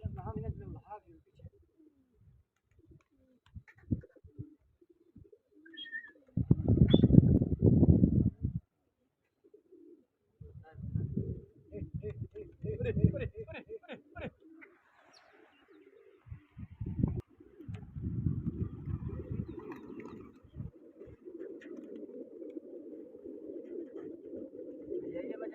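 Pigeon cooing in bursts over about 25 seconds, with low throaty coos and louder stretches, mixed with other faint bird chirps and quiet gaps.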